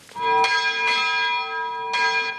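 A church bell at the Military History Museum in Budapest tolls in slow, ringing strikes, three clear hits with long sustained resonance between them, loud and unaccompanied.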